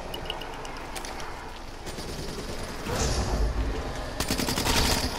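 Rapid automatic gunfire from a weapon in Black Ops 3 Zombies, Shi No Numa remastered map, bursting loud and dense in two stretches over game noise.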